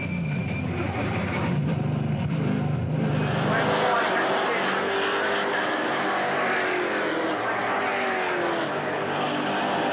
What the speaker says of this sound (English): The two racing club partner Toyota Camrys are locked in battle as Javier Villa laps them.